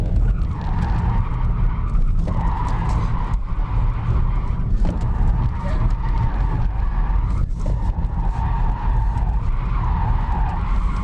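A 1.6 diesel BMW 1 Series drifts with the hydraulic handbrake, its tyres skidding and squealing loudly and continuously over a rough engine drone, heard up close from inside the car with no talk.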